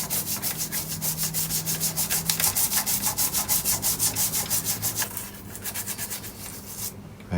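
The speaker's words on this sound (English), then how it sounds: "first of all I'll give it a good dose of WD-40 and a bit of a scrub" A brush scrubs back and forth over the mechanism of an HMV Model C1-81 valve record player soaked in WD-40, a loud close rhythmic scraping in quick regular strokes that slows and softens near the end.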